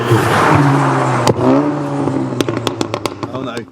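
A VW Golf R engine revs up and then drops off, followed by a quick series of sharp popping cracks from the exhaust as it throws flames, loud and close.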